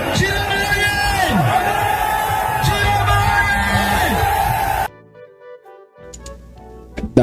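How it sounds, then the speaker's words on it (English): Large crowd in Douala, Cameroon, cheering and celebrating Issa Chiroma Bakari, a dense roar of shouts and whoops that cuts off abruptly after about five seconds, leaving faint scattered noise. "That is a crowd in Douala coming out in their numbers to celebrate Issa Chiroma Bakari"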